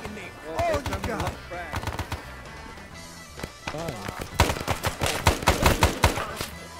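Video game gunfire in a jungle combat setting, sharp shots scattered at first then rapid bursts of automatic fire, heard alongside voices talking.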